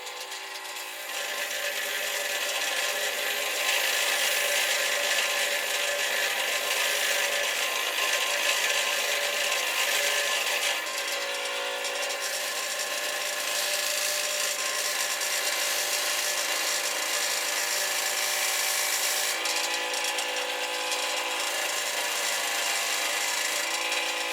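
Knife blade pressed against a lower-grit abrasive at a forge, a loud continuous close grinding hiss that holds steady with slight swells for over twenty seconds, no talk.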